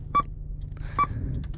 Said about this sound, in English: every time you press the button, it makes this super loud beep.